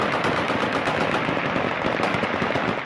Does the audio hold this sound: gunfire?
yes